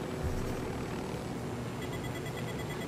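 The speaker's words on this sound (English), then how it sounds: "Let's get back in my helicopter." A helicopter in the video game Ghost Recon Wildlands, a dense steady rotor and engine roar filling the whole stretch, loud and unbroken with no talk.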